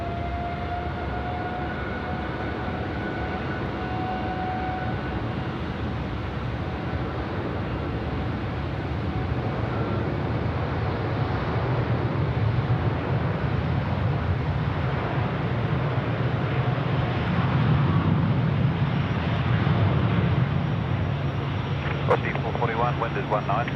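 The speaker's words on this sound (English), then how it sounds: "All right, Scooter 13 cleared for takeoff." Aircraft Scooter 13 taking off from runway 16 right in Sydney, a steady distant engine roar that slowly builds in loudness over about twenty seconds, with faint high whine tones early on.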